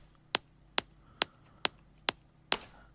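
Six sharp, bright click transients layered for a trance kick drum, evenly spaced about every half second, each snapping in and decaying quickly, with the last one slightly fuller and longer; alone with no talk.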